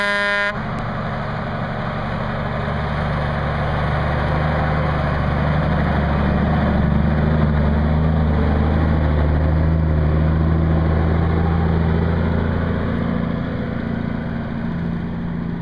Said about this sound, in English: It's a 1958 Diamond T. It's got a 262 Cummins in it.